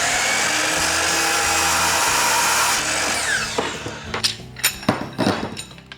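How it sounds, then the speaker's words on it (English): A power tool cutting TREX Signature rod rail rods gives a steady loud whine for several seconds, then tapers off into scattered clanks and knocks as the cut finishes, with no talking. "let's cut each one of these rods to 46"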